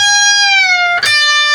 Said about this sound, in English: It's a pre-bend release